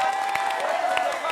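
A studio audience at a televised Hindi political debate show claps briefly, a dense patter of hands under a faint murmur of voices.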